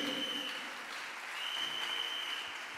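A church congregation claps together in steady, dense applause throughout, loud and close, with faint voices mixed in.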